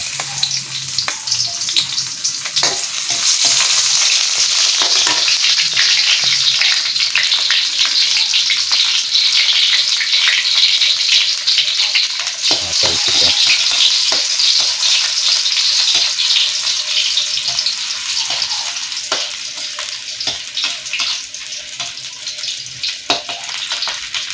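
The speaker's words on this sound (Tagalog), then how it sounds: "nagsalang na tayo ng mantika. Salang na, ilagay na natin yung luya muna." Ginger frying in hot cooking oil in a home kitchen pan, a loud steady crackling sizzle that runs the whole time with brief stirring scrapes and no talking.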